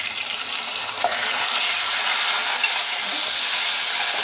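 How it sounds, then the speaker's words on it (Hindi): Tomatoes hit a pan of browned frying onions for an achari baingan (eggplant) dish, raising a steady, loud, close sizzle that crackles evenly throughout with no talking. "अब ये देखें कि ये हमने इसमें टमाटर डाल दिए।"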